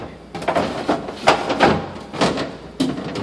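Drawers of a Whirlpool refrigerator, some broken or stiff, are pulled open and pushed shut, producing a run of close, uneven thumps and sliding scrapes with no talking.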